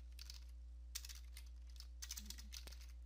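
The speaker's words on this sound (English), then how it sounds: "you're going to type in copy" Keystrokes on a computer keyboard as a command is typed in Windows, a quick uneven run of light, close clicks over a steady low hum.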